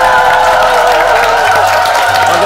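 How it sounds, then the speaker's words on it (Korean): Studio audience at a Korean talk show clapping and cheering to welcome a company chairman onstage: a dense, loud, continuous wash of applause with crowd voices that never lets up. "몽상 박한길 회장님 큰 박수로 만나볼까요?"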